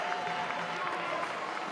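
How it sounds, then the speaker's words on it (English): Crowd at a Big Ten college wrestling dual meet applauding and cheering steadily in a large arena, a dense continuous roar of clapping and voices with no break. "the crowd is loving every bit of it"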